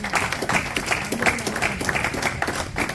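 A church congregation applauds during a sermon, with steady, fairly dense clapping that keeps a loose rhythm from start to finish.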